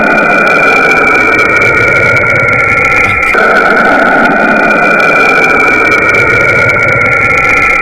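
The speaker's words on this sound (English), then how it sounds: "This is what Saturn sounds like." Space sound recording of the planet Saturn: a dense, steady eerie drone with high hissing tones, loud and continuous, with a brief break near the middle before the drone resumes unchanged.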